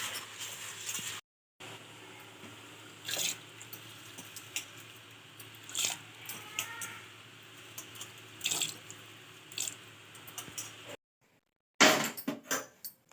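Urad dal is rinsed in water, with tap water running steadily and occasional sloshing and clinks of a vessel, close by, the flow stopping briefly near the start and again near the end.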